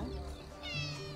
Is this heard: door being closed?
no